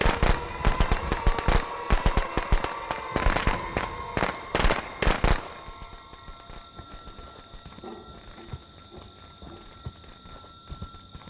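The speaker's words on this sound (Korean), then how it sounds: "폭죽 조심" Firecrackers go off in the video game Friday the 13th: a rapid, loud string of sharp crackling pops for about five seconds, then quieter ambience with a steady tone underneath.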